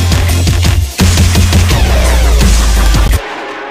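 Tronix synth patch with super saws, a loud, dense wash of buzzing synth tones over a pulsing low beat that drops out suddenly at the end, with no voices.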